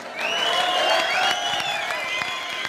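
An audience at an Eid concert claps steadily while sharp whistles rise and glide over the applause, filling the hall at a fairly loud, even level.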